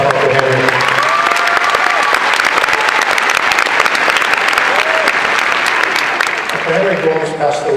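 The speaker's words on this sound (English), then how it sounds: "please, round of applause for Uncle Henry." Loud, sustained applause fills a university graduation ceremony, a crowd clapping continuously and densely with scattered cheers and voices mixed in, tapering slightly near the end.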